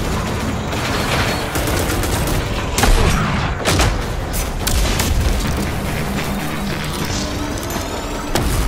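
Powerful weapons fire in RAGE 2 as booming shots and rapid bursts crack out in quick succession, with mechanical clanks between them. The loud, dense combat noise runs throughout without talk.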